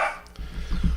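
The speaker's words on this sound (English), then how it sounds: "Little dog." Small dog barking indoors, a few short sharp yips in quick succession, close and fairly loud.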